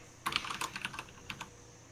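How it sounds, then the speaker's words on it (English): Brief, quiet burst of keystrokes on a computer keyboard, a quick cluster of clicks followed by a couple of separate taps against faint background hiss. "I hear AK typing away for Red."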